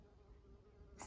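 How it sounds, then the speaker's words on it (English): Bees buzz around lavender on a kitchen patio, a faint steady drone close by that holds for about a second in a quiet outdoor setting. "So many little bees, all in my lavender."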